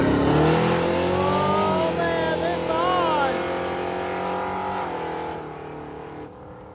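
Hot rod drag racing cars roar and rev loudly as they accelerate away down a strip, the pitch rising then fading into the distance, with a voice talking over it.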